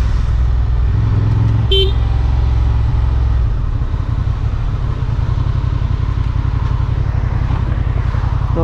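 A Honda XL750 Transalp 2023 adventure motorcycle sounds a short, sharp horn toot near the start over a steady low engine rumble, which then continues alone.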